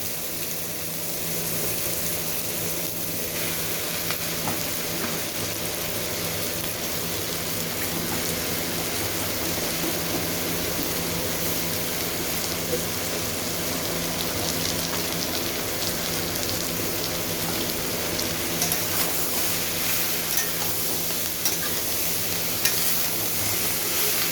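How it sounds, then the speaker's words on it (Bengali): Mushrooms going into a pan of already-fried ingredients for mushroom chilli, producing a soft, continuous crackling sizzle like light rain, steady and moderately quiet throughout with no voices. "সব উপকরণগুলো আমার ভাজা হয়ে গিয়েছে দেখুন। এখন এর মধ্যে আমি মাশরুমটা দিয়ে দেবো।"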